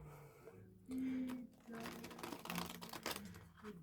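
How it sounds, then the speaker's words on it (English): Cards are shuffled close up in quick riffling bursts, with a low voice murmuring underneath. "Let me shuffle these again"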